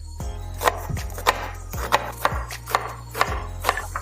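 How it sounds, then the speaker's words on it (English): Knife chopping through onion on a cutting board: sharp, regular chops with crisp crunches, about eight strokes at a steady rhythm, close up with no talking. "I'll cut the onion into medium cubes"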